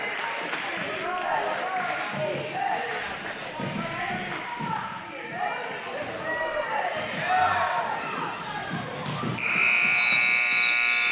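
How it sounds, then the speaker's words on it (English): During a high school basketball game, a loud, sustained buzzer sounds near the end, sharp and steady, after a stretch of crowd noise, bouncing ball and a commentator talking. "shot doesn't count after the buzzer"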